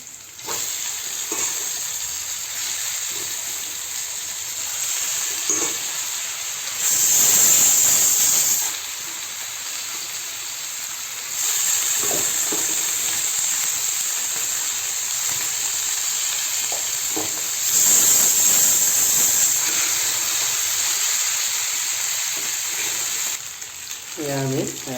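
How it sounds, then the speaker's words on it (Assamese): Pork and potatoes sizzling together in a pan, giving a continuous close frying hiss that swells louder in a few stretches, with occasional stirring scrapes and a short bit of speech near the end. "গাহৰি আলুৰে দি দিম একেলগে"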